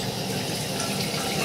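Hot water runs from a tap into a bowl for face lathering, a brief steady splashing gush at close range.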